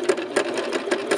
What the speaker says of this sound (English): I'm going to just stitch it down where I did the stitch line